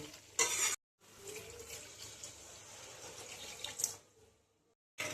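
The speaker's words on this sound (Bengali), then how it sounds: "এবার আমি ঝোলের জন্য জল দিয়ে দেবো।" Water is poured into a hilsa fish curry with potato and taro to make gravy, a quiet hissing, splashing pour between short gaps, with a brief clatter at the start and near the end.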